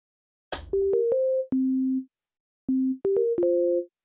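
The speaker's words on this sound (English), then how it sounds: "Maybe we'll try the 8-bit sine wave just for a bit of different interest." A Korg Opsix synthesizer plays short phrases of clean, slightly digital 8-bit sine-wave tones that step between a few pitches, with a brief silence between phrases.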